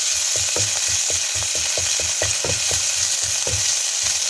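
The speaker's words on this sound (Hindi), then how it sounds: "थोड़ा थोड़ा इसको भूनना" Ginger paste sizzles in about a teaspoon of oil for a chicken kachori stuffing, a steady bright fry broken by a quick run of rhythmic stirring scrapes, close and loud with no talking.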